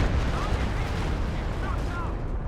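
A Stuka dive bomber attack explodes in a Company of Heroes battle on the Eindhoven Country map: a heavy, loud booming rumble that fills the whole stretch with sustained blast noise.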